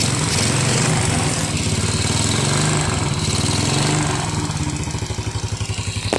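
A Yamaha Jupiter Z motorcycle, left unused for years, idles steadily up close after being restarted, its engine chugging in a rapid even rhythm that grows slightly more pulsed toward the end.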